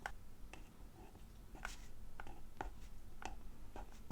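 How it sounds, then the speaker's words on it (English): Handwriting on a vision board, faint, quiet pen strokes scratching in short separate bursts at a close distance, with no talk. "I'm going to write healthy here."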